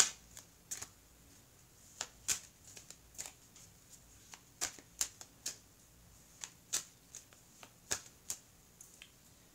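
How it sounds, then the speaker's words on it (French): Oracle cards are shuffled close by in quick, irregular flurries of crisp papery snaps and slaps, with short pauses between bursts in a quiet room. "je vais prendre maintenant les cartes de l'oracle des miroirs pour voir un petit peu plus dans ce tirage"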